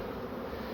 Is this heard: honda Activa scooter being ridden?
no